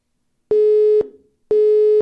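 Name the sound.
phone busy tone after a radio call line was cut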